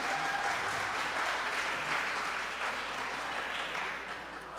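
Audience applause at a Girl Scouts Glamp 2021 fundraising evening, a steady wash of many hands clapping throughout, fairly distant, easing slightly toward the end.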